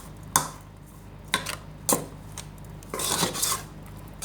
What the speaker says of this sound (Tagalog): halu-haluin lang po natin ang ating kanin sa atin